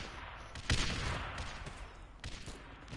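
Turret gunfire in a Christmas tower-defense video game, a steady crackling fusillade of rapid shots with a louder burst early on, continuing alone at moderate volume.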